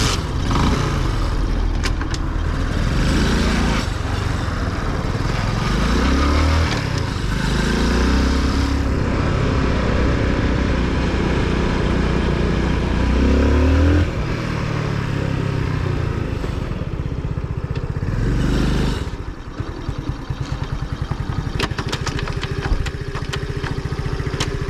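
A Honda C90 motorcycle engine runs steadily at close range, a continuous putter with a few revs rising and falling, loud and alone without talk.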